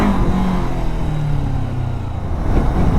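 A Zongshen RX3S motorcycle engine on a ride through Lahore, a loud close steady drone with slight rises in revs and a low rumble, no talking.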